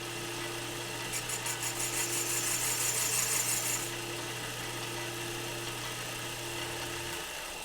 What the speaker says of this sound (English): I'm gonna put a little chamfer on here.